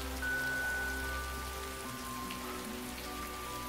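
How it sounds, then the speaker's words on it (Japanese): Steady, quiet rainfall patters on surfaces in a continuous soft hiss, faint and even throughout with a low background hum. "雨ですね。"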